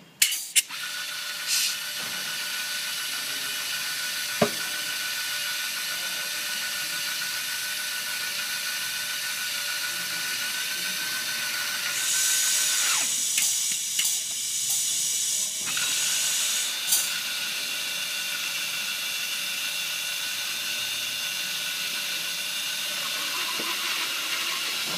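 A hand-operated press tool loads a seal into a crank housing and threads a spindle to fit the crankshaft, giving a steady hiss with a few sharp metallic clicks and brief bursts of higher-pitched noise.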